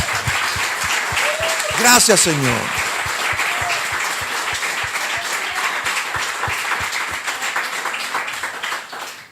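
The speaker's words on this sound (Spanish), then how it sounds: "¿Por qué no le da un aplauso a papá?" A church congregation at a Sunday service claps together, dense sustained applause running for several seconds and fading, with a voice speaking over it and a rhythmic tapping beat underneath.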